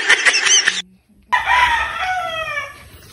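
Chickens cluck close by on a rural hillside farm, then after a short pause a rooster lets out a long, loud crow that trails off.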